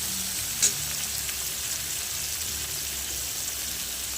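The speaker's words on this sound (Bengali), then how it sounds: "দিয়ে সবজিগুলোকে আরও 2 থেকে 3 মিনিট ভেজে নেব।" Mixed vegetables fry with soy sauce in a pan for fried rice, a steady, even hiss of sizzling oil throughout with one small click early on, close and uninterrupted, no voices.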